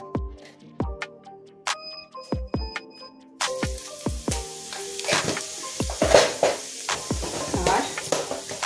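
Cumin seeds drop into hot oil for a Bengali catla fish curry and crackle with a soft sizzle. Sharp metallic clinks and taps of a utensil against the pan come first, and a hiss rises under them.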